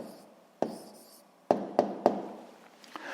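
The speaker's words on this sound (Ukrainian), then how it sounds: "Записуємо відповідь" Hand writing down a physics answer with a pen on paper, giving faint scratching strokes punctuated by a few crisp taps at uneven intervals, close and quiet.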